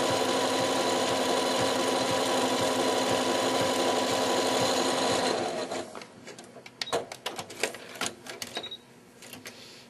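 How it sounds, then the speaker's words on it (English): A sewing machine stitching a blind hem runs steadily and loudly for about five seconds, then slows into a series of separate clunking stitches as it stops and starts. "You can hear it kind of clunking through there, getting that extra weight."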